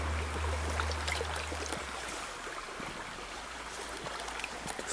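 Water of the Veperec stream flows over a muddy, sandy bottom with a soft, steady trickling wash. A low rumble sits underneath, and there is no talk.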